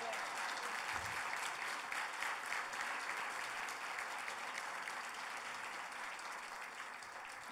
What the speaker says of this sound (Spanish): También merecemos un aplauso.